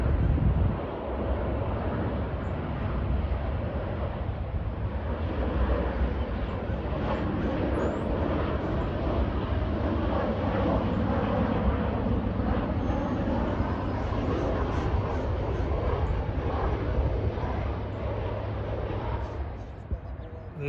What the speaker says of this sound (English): it's an excellent plane watching spot, as we're at the end of Reagan Airport's runway